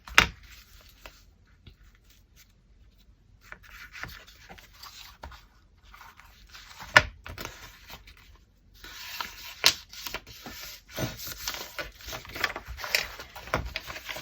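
Scissors trim paper for a handmade junk journal built from an old diary, close and quiet, with scattered snips and rustles that grow busier and denser toward the end.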